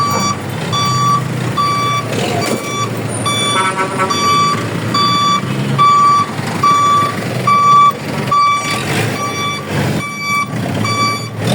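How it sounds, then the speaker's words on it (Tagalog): Truck reversing into a site, its backup alarm beeping in a steady evenly spaced series over a low idling engine rumble, close and loud with short bursts of background noise. "Pasok yung truck nila."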